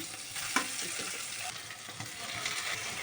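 Onion and garlic sizzle in hot oil for a salt-water fish curry with potatoes, a steady crackling fry with faint stirring scrapes throughout, close and fairly loud, with no talk over it.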